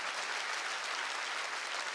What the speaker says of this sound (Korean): 박수 치라는 거예요